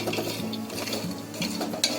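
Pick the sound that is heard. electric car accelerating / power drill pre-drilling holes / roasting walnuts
roasting walnuts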